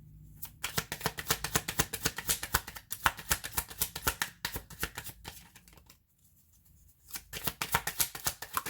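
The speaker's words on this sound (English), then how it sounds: "I know I was shuffling." Tarot cards shuffled in quick rhythmic riffles, close and fairly loud, with a brief pause around the sixth second before the shuffling resumes; no talking.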